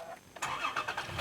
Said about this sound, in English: just put your foot on the brake and then push the button here to start the engine